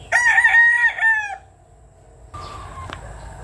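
An LDT Grey gamefowl rooster crows once, loud and close, a long harmonic cock-a-doodle-doo lasting over a second, followed by quieter rustling and a faint distant call.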